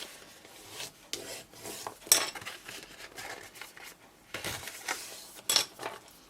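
Card stock is folded along score lines, with soft scraping and rubbing strokes coming in irregular bursts, close and fairly quiet, with no talking.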